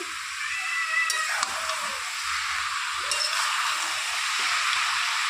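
Rohu fish heads spread into a hot pan with cabbage, frying with a steady close sizzle and hiss, with a few faint stirring clinks and no talk.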